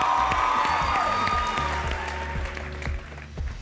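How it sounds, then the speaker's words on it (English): An audience at a live television eviction show applauds over background music with a thumping low beat, the clapping dense and steady before easing slightly. "Big round of applause, Angel."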